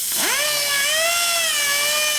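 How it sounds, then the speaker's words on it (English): A valve seat cutter turns on a 2004 Harley-Davidson Twin Cam FLHT touring cylinder head, giving a close, sustained whining tone that sweeps up sharply at the start and then holds steady, with no speech. "You're cutting the seat an 1/8 inch in."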